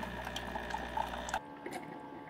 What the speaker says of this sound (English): It's brewing it's doing a descaling operation, brewing the water and vinegar through there.